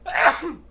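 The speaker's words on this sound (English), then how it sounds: "Hold on, I am gonna sneeze." A single close, loud human sneeze, sharp and breathy, followed by a short fading tail, with no talking over it.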